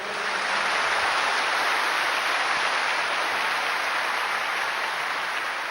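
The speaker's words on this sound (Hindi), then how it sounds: "मैं चाहता हूं पूरा सदन एक बार जोरदार तालियों से अभिनंदन करें।" A packed hall of camp participants at a yoga centre applauds loudly together, a dense, sustained wash of clapping that holds steady and even from start to finish with no speech over it.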